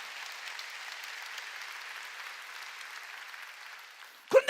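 A church congregation claps during a sermon, a soft, even patter of many hands that holds steady and then gives way to a sudden loud voice right at the end.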